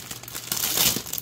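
Crinkling plastic bag holding a Gundam model kit runner being torn open, close and loud rustling with a sharp burst of tearing in the middle, alone without talk.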